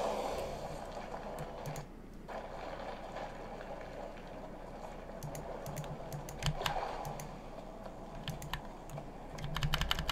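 Keys on a computer keypad clatter in quick irregular bursts during a Guild Wars 2 session, fairly close and steady over a low background hum, with no talk.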